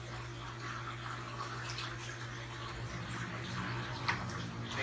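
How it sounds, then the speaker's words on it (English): Water being poured out of a container holding a giant stingray, a steady splashing and trickling wash with a low hum underneath, continuous and moderately close throughout. "I'm gonna pour out some of the water so it's not too heavy to carry."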